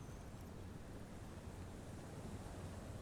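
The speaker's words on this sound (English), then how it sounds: "The waves are beginning to die down." Ocean waves from Disco Elysium, a steady broad wash of surf with wind-like noise, continuous and fairly faint throughout, no voices.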